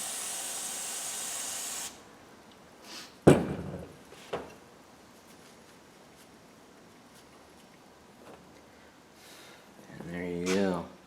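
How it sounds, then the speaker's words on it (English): A can of brake cleaner opens with a quick hiss, then a short burst sprays to cool a freshly soldered joint, followed by a few faint clicks and handling noises in a quiet room. "Gotta cool it with some brake clean."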